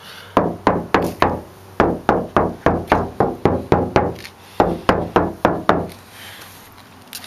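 Knuckles rap a stock car quarter panel in quick groups of hollow metallic knocks, about eighteen in all with a short pause midway, sounding loud and close with no talk.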